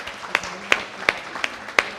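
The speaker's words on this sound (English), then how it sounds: "Give that wonderful ma a big round of applause" Clapping at a Hindu religious discourse gathering, heard as about six distinct, fairly loud claps in an even, unhurried rhythm, close to the listener.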